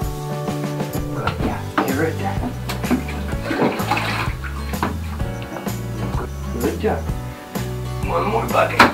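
Water sloshing and splashing as it is poured over a cat in a tub, close by, with steady background music underneath.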